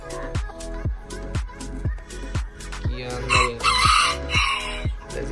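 A rooster that runs with hens crows loudly and nearby, amid a steady series of sharp clucks and calls from the flock, with a longer crowing stretch toward the end.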